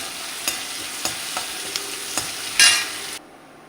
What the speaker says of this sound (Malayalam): ഞാനിത് മുളകാണ് കാച്ചുന്നത്